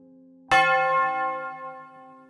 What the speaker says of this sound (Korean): 수업이 끝나는 종이 울리자